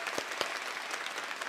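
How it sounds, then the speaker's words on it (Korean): Church congregation at an autumn dawn revival service clapping together, a full continuous roar of applause with a few sharper individual claps standing out. "우리 하나님께 영광의 박수 올려드리겠습니다"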